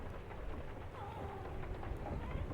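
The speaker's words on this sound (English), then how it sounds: "It is raining." Steady rain falls in the pixel-art ship game Return of the Obra Dinn, a dense continuous hiss with low rumbling underneath, even in level and unbroken, no voices present.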